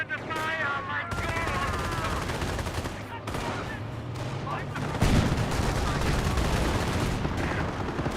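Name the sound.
gunfire in Company of Heroes video game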